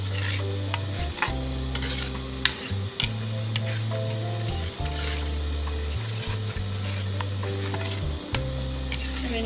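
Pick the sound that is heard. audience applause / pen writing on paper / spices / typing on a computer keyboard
spices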